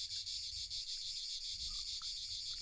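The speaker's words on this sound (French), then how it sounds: "Les cigales mâles vont alors chanter pour attirer les femelles." Male cicadas in a Mediterranean setting sing a steady, high, shrill buzz that pulses slightly and carries on unbroken, moderately close, with faint low rumble beneath and no voices.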